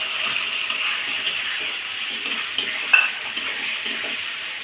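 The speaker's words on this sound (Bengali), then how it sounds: "এবার আমি মাছ ভাজাগুলো দিয়ে দেবো।" Fried rohu fish being stirred into a sizzling masala for kalia, with steady frying hiss and occasional spatula scrapes and clinks against the pan, close and moderately loud, no voices.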